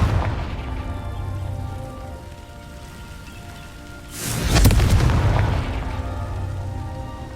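Confringo, an explosive spell cast in the Hogwarts Legacy video game, sounds as a sudden whooshing burst and a boom partway through, rising over steady rain-like game ambience and fading back.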